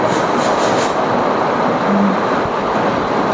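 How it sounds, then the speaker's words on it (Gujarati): A train rolls past in heavy wind-driven rain, a dense, steady roar of wheels and rainfall holding at a constant loud level, with a brief squeal midway. "જો વરસાદમાં કેવી ટ્રેને જાય છે"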